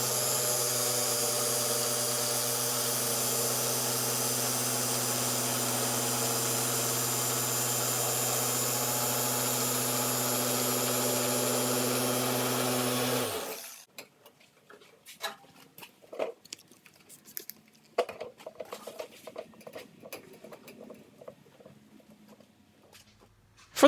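Car polisher running with cutting compound on a more aggressive pad, a loud steady motor drone that stops abruptly partway through, followed by scattered handling taps and rustles close by.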